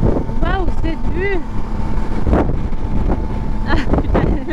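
Strong wind roars across the microphone of a Yamaha Tracer 9 GT motorcycle crossing the Iroise bridge in Brittany, a loud continuous buffeting rumble under a rider's excited exclamations.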